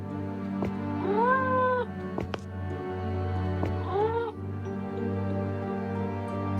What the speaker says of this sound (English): Is that a cat meowing?